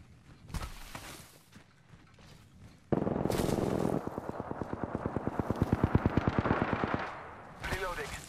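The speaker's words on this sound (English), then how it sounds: "Opening fire on the enemy" Rapid automatic weapon fire in the shooter Apex Legends, a long steady stream of loud close shots running for several seconds after a few scattered earlier shots.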